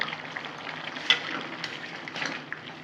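Chicken with whole onions and whole tomatoes being stirred in a pan, a close crackling fry with soft scrapes and a sharp spoon clink, steady and moderately quiet.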